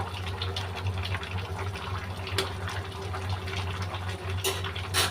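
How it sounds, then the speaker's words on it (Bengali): Curry broth is poured into a cooking pan of fish curry, and a steady watery rush and gurgle runs continuously at moderate loudness. No one talks over it. "অল্প করে ঝোলটা দিছি, জাস্ট শুধু আমি 2-3 মিনিট এটা রান্না করব"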